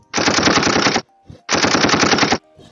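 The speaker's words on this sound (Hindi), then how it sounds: "ये गन शॉट है" Gunshot effect from a DIGIMORE D-430 sound kit: two loud, close bursts of rapid automatic fire, each about a second long, separated by a short gap.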